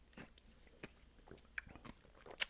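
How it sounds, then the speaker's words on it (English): Someone chewing right into a microphone, a string of close, irregular crunchy bites and mouth clicks, soft overall with a sharper crunch near the end. "thank you for chewing right into the microphone"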